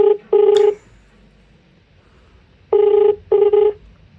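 Touch-tone telephone dialing to place a call back: two short tones close together, a pause of about two seconds, then three more quick tones, clear and close with no voices.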